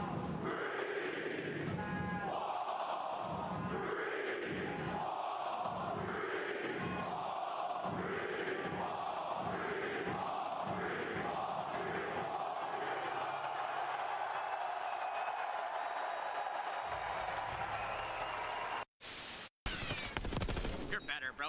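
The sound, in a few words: home crowd cheering at esports event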